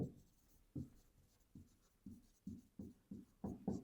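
A pen writes on paper while working a math exercise, a quiet close run of about nine short, rhythmic scratchy strokes.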